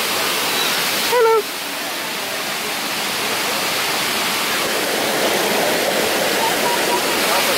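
Steady roar of a waterfall in Minca, Colombia, a dense continuous rush of falling water filling the scene, with a brief faint voice near the start.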